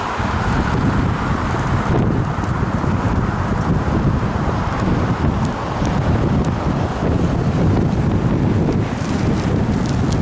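Strong, steady wind buffets the microphone of a rider on the road, a continuous low roar and rumble with brief gusty dips, with no talking.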